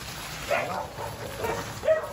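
Dogs barking at a distance outdoors, several faint, short yelps and barks scattered over steady background noise.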